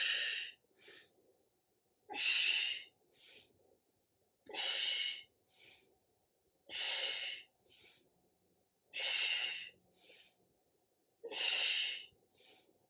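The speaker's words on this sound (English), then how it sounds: "it's inhale and an exhale. Inhale and an exhale." Deep, audible breaths during a weights and bands upper-body workout: six slow cycles, each a loud forceful exhale and then a shorter, softer inhale, close up with quiet pauses between.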